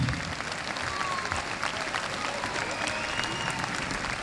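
Audience at an outdoor son et lumière show clapping during the final bow, a continuous, fairly faint patter of many hands with a voice briefly audible over it.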